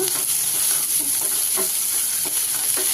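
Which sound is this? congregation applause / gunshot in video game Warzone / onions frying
onions frying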